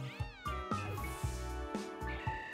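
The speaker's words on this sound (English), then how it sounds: "Make sure that that Litten is gone." Litten, the fire-type kitten Pokémon, crying in a Pokémon video game: a run of synthesized meows with strong harmonics, about five or six short repeated calls in a steady rhythm, clear and alone with no talk.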